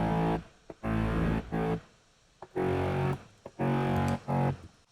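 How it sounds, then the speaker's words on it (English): A layered mid bass synth from a future bass track plays thick, distorted sustained notes in choppy bursts separated by short gaps, loud and up front with no voice. "So our mid bass sounds like this."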